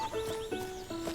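A horse in the Zelda Tears of the Kingdom video game, heard as a brief game sound with tonal neighing, moderately loud under game music.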